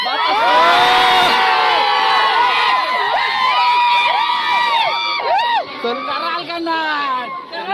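A big crowd cheers, whoops and shouts loudly at a bullock cart race at Bonivali ground, a steady roaring din that holds for several seconds, with children's high shouts and long cries rising above it.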